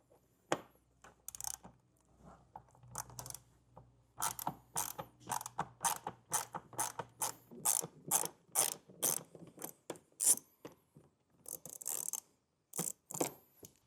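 Trim screws coming out of the wheel well of a 2024 Audi Q5, a run of quick mechanical clicks and ratcheting creaks repeating in close bursts with no talking.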